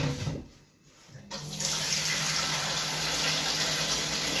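A mixing bowl being washed under a running kitchen tap after making sponge cake: brief quiet handling, then water gushes on and streams steadily and loudly into the bowl, close up.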